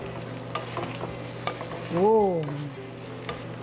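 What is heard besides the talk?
stir-frying pork sisig with green chili pepper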